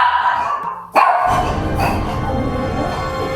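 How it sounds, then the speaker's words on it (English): A neighbour's dog barks from across the way, one sharp bark followed by a loud, rough stretch of barking and yelping up close. "It's this dog that lives across the way. And he's always out there barking."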